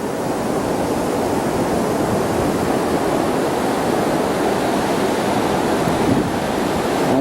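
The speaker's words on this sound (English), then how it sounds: "And there's the river. This is the rapids." Rapids of a river at Goodman Park roar in a steady, dense rush of water that fills the whole stretch without pause, close and loud, with a faint breath of wind on the microphone and no voices.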